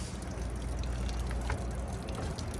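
Waste water drains steadily from an open tank valve outlet on a 2025 Forest River Rockwood Signature 375RL fifth wheel RV, a faint continuous gushing trickle with scattered splashy spatters.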